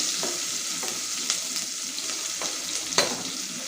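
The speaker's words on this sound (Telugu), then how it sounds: "ఆనియన్స్ గోల్డెన్ బ్రౌన్ కలర్ వచ్చే వరకు వేయించుకోవాలండి." Thinly sliced onions fry in oil in a pan for mutton curry, giving a steady bright sizzle with occasional scraping stir strokes, close and continuous.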